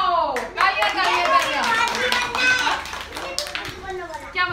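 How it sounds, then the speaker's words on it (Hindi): Schoolchildren in a primary classroom clap together in a short burst of quick, overlapping hand claps, close and fairly loud, mixed with children's voices and an adult talking. "वाओ, तालियां तालियां"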